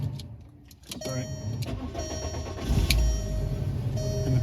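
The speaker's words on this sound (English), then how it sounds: "And the car starts." A VW Mk4 car engine cranks and catches after the key is turned, then settles into a steady idle rumble, heard close up with faint clicks from the ignition and dash before it fires.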